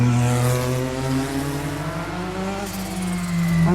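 Honda-engined Williams FW11 Formula One car running close by, a loud sustained engine note with rich harmonic tones that dip and climb as the revs change.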